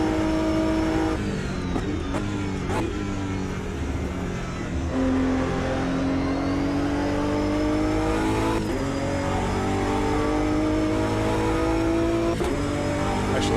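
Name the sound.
race car engine driving a lap in Automobilista 2 video game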